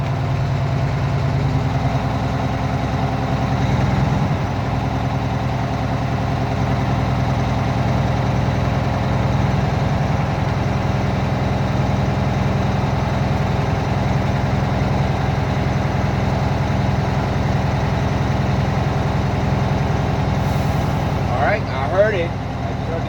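A heavy truck idles steadily and loudly while its air brake system builds pressure, with a brief sharp hiss of released air as the governor cuts out near the end.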